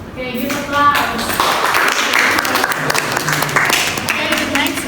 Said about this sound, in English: Okay, give applause.